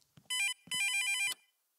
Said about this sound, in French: Il faut que je réponde au téléphone.